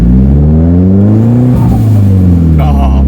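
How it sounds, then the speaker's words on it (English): A Nissan Pulsar GTiR's engine revs up loudly from inside the car. The revs drop sharply as the blow-off valve releases with a quick whoosh, then the engine settles back. "Oh, blow off valve"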